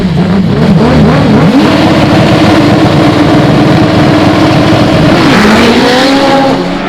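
A Prostar drag bike launches hard down the drag strip, its engine a loud sustained high-pitched wail that climbs and shifts through the run.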